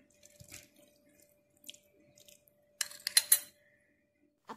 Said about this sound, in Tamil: நாங்கள் பாலில் குங்குமப்பூ கரைச்சி வச்சுருக்கோம், அதை ஃபுல்லாக பரவலாக ஊற்றிக்கலாம்.